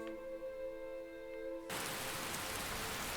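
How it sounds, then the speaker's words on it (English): Loud rain in Skyrim bursts in suddenly as a dense, hissing downpour, replacing a quieter tonal music bed and continuing steadily to the end. "it's quite loud rain."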